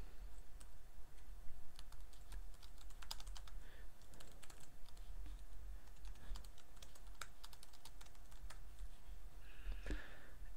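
Someone types on a computer keyboard in irregular bursts of quiet, crisp key clicks, close and soft, with brief pauses between runs of keystrokes and no talking.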